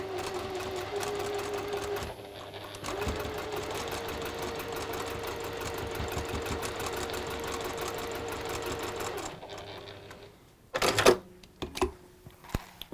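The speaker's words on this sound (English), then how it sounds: "So just sewing on that line now" A sewing machine stitches along a quilt border seam in a fast, steady run lasting several seconds, stopping briefly near the start, then falling quiet before a few sharp handling clicks at the end.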